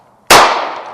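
A single sharp gunshot strikes a PASGT-style NP550 ballistic steel helmet rated NIJ level IIIA+. The loud crack is close and sudden, followed by a fading ring and echo.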